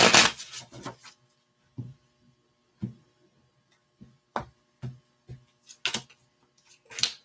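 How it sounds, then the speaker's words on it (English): Tarot cards being shuffled by hand: a fast riffle at the start, then a series of separate soft slaps and flicks as the deck is cut and tapped, close and clear in a quiet room. "2 more shuffles."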